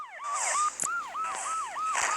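A police car siren wails in a Transformers-style video game, its rapid rising-and-falling yelp repeating steadily and loud, with a few sharp clicks or shots punctuating it.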